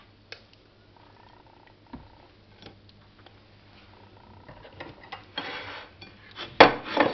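Waffles set onto plates in a home kitchen: scattered light clinks and taps of dishes and cutlery against ceramic, faint and sparse at first, then a busier clatter with a louder knock near the end.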